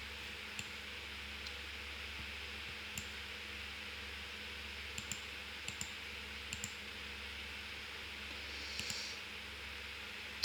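Sparse, light mouse clicks, some in quick pairs, tick over steady low computer hum and faint background hiss while a flight-tracking map is browsed.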